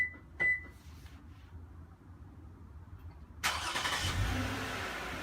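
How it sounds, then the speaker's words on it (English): A Toyota Avalon's engine starts remotely in winter: a pair of short electronic beeps, a quiet pause, then the engine catches and settles into a steady low idle hum. "Let me start the engine again."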